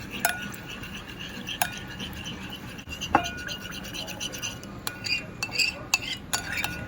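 Sauce for beef bulgogi dumplings, with unagi sushi sauce, being stirred in a bowl gives quiet irregular clinks and scrapes of a utensil against the dish.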